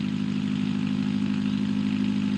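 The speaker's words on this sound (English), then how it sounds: "and the engine runs great" A rebuilt cannon car's engine runs in the BeamNG Drive video game, a steady, loud, low idling drone with a faint clatter that holds unchanged throughout.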